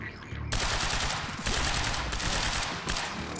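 Gunfire from the game Quantum Break: loud, dense bursts of rapid shots that rattle nearly nonstop, with short gaps between volleys and a harsh, booming texture.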